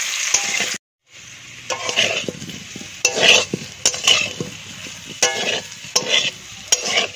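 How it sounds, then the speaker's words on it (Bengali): Potatoes fry in hot oil in a pan, sizzling continuously as a utensil scrapes and stirs them in repeated bursts of clattering strokes, close and loud with a brief pause near the start. "আলুটা লাল লাল করে একটু ভেজে নেব"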